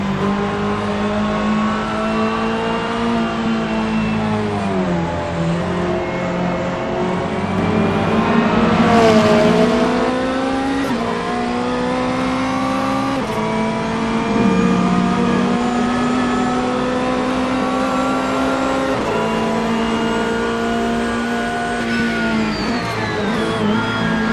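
A 2024 Corvette Z06 GT3.R race car in the Assetto Corsa video game, its engine droning loudly and continuously, pitch rising and dipping through gear changes and braking, heard close with no talk.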